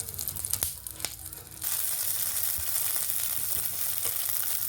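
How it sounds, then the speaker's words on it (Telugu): Peanuts and green chillies fry in a pan over a low flame for coconut chutney, giving a steady close sizzle that grows fuller after a brief stir at the start. "శనగపలుకులు లో ఫ్లేమ్లో వేయించుకోవాలండి"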